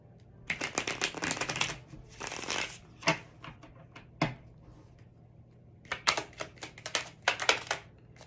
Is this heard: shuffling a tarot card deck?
yes